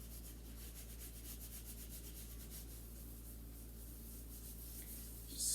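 Homemade body scrub rubbed onto skin in circular motions, giving a steady, soft, close gritty rasp that continues evenly throughout, with a brief louder scuff at the very end.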